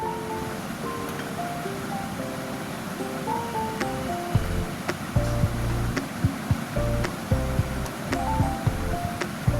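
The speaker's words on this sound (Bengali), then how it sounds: "এবার সামান্য একটু জল দিয়ে ভালো করে কষিয়ে নেব" Soybean chunks and potatoes fry in a pan with a little water added, giving a constant hissing sizzle with light knocks in the second half and faint melodic tones in the background.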